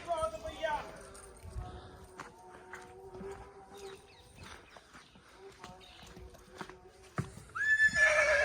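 A Marwari horse neighs in a long whinny near the end, with earlier snorts, hoof clatter and people talking in the background.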